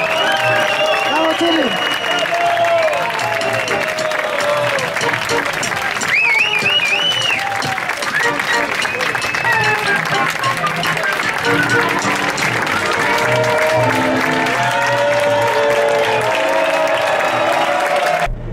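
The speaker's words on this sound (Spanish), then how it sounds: "pido un fuerte aplauso para el Shirley" A street audience applauds a busking swing band member, with the clapping and crowd noise mixing with voices and musical tones throughout a long, loud stretch.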